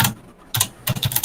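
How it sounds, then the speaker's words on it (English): Computer keyboard typing while coding a Flappy Bird game, short bursts of rapid key clicks separated by a brief pause, close and clear with no talk. "what Miguel is typing out right now"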